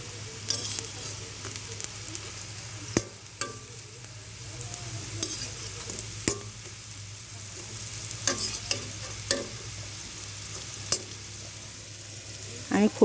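Fish-roe chops made from magur catfish eggs fry in a little oil, giving a soft steady sizzle with scattered sharp crackles and pops from the pan, close by and with no voices.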